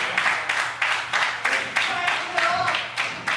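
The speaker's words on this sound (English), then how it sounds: "Listen to this crowd get behind Frank the Crank." A wrestling crowd at an RWA Hype show cheers and claps for Frank the Crank, a broad, steady roar of many voices with rhythmic surges of clapping and stomping throughout.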